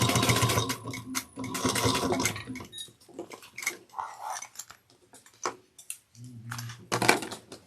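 A sewing machine back stitching seams on a fold-over cross-body bag runs in short whirring bursts separated by pauses, close and clear, with small handling clicks between stitches.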